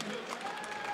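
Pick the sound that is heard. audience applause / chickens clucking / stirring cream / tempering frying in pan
audience applause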